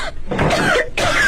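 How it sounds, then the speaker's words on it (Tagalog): A person coughs sharply at close range, a couple of rough throaty bursts heard alone with no talking. "Inubo ka?"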